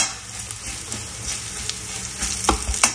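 Coarsely crushed fennel and coriander seeds sautéing in a pan for a kachori filling: a continuous close sizzle broken by sharp spatula scrapes and stirring clicks, louder near the end.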